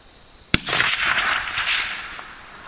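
A single close, sharp crack from a Winchester 94 lever-action rifle in .30-30 firing a Lee 150-grain flat-nose bullet outdoors, followed by a long rolling echo that fades over two seconds.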